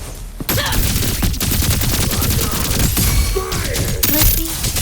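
Gunfire in the action game Wuthering Waves: a dense volley of sharp shots and impacts fires in quick succession, loud and close, mixed with clinking debris and ringing effects.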